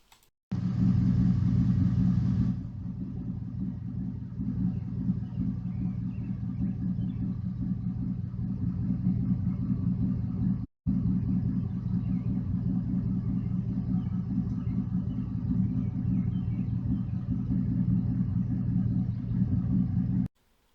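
A 4.7-litre V8 truck engine with aftermarket cams idles steadily for about twenty seconds with a deep, lopey rumble, close and even, with a brief dropout near the middle.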